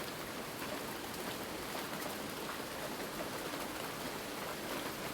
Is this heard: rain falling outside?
yes